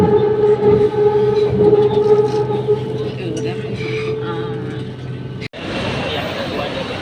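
A BTS Skytrain in Bangkok rumbles steadily along its elevated rails with a low mechanical hum and rattling, a murmur of passengers beneath, then a brief sharp dropout.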